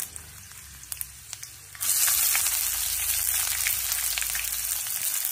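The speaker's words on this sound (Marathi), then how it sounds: "कांदा घालायचा भाजायला." Onion frying in a pan for Hubli-style girmit breaks into a loud, steady sizzle about two seconds in, after a few quiet taps and clicks, and keeps hissing evenly to the end.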